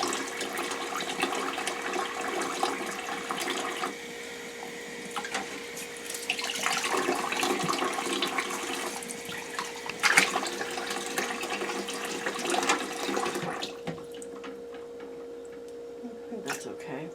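Water runs from a tap over tumbled rocks being washed in a container, a continuous moderate hiss with splashing and clinks, a steady hum beneath, brief sharp knocks, and a quieter stretch near the end with talking.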